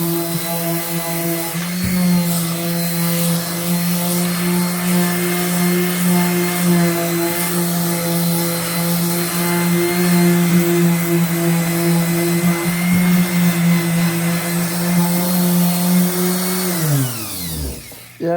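A power sander works on flat kitchen cabinet surfaces, a steady droning whine held for around seventeen seconds before it winds down and stops at the end.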